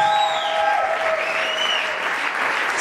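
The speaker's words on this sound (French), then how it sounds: "On applaudit très fort, Monsieur Roli." Steady applause from a crowd at a diploma ceremony, continuous and fairly loud, with faint whistles or calls riding over the clapping.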